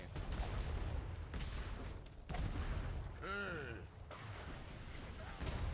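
Ship cannons fire in the Atlas naval game, with several heavy booms and volleys spread across a busy sea battle and a whistling sweep in the middle, while voices talk over the action.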